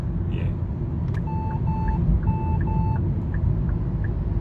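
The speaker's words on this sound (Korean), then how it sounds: "그래서 제가 깜빡이를 틀고요, 차선을 바꾸도록 하겠습니다." A Hyundai Sonata's turn signal ticks evenly inside the cabin before a lane change, over steady road rumble, alongside a few short electronic beep tones.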